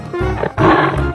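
A tiger roars in an animal video game, a loud, close growling roar that swells twice across a moment, set against a low musical backing.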